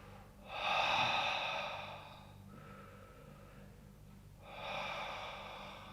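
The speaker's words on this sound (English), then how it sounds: "I'll start breathing deep and feeling my body" Two deep, slow breaths are drawn in close and quiet, each a long airy inhale with a soft exhale trailing off, separated by a pause.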